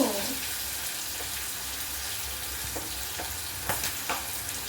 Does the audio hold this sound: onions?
yes